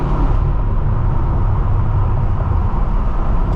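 A BMW M6 with a newly fitted aftermarket exhaust drives along, giving a loud, steady, dense roar that stays constant throughout without distinct gear changes.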